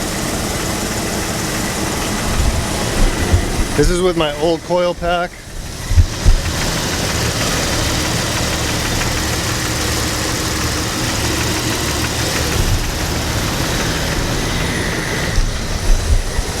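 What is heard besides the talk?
car engine knocking from misfire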